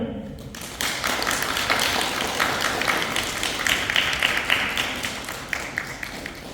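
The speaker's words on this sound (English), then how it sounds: "Give a big applause to my diver here" Aquarium audience at the Ålesund Atlantic Sea-Park in Norway applauding a diver, steady broadband clapping that starts abruptly and continues fairly loud and dense throughout.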